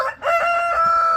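A Rhode Island Red rooster crows once, close and loud, a short, strained, harmonic call that rises and holds steady for about a second.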